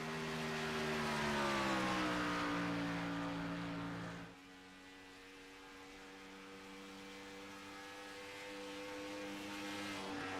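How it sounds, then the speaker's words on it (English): A race car engine at Auto Club Speedway screams into turn 3, a loud sustained whine that drops in pitch as the car passes, then hums on more faintly down the track, with no voices over it. "As the car screams into turn 3 here, he's going to bring it all the way down the track"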